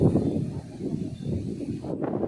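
Gusty wind buffets and rushes across the microphone in a continuous low roar, briefly dropping off near the end.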